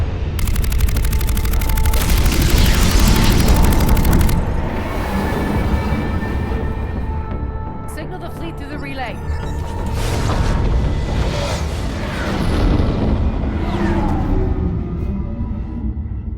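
A weapon firing with a heavy explosive boom in the video game Mass Effect 3, a dense roaring rumble and crackle dominating the opening seconds, then a rolling, rumbling aftermath with layered mechanical tones and scattered impacts.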